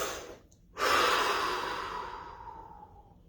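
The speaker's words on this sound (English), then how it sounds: "So take a breath." A person draws a slow, deep breath in, then lets it out in a long, audible sigh that trails off gradually, close and alone with no talk.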